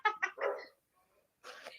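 A dog barks in a few quick, sharp yaps, then pauses and gives another short burst, heard faintly and from some distance.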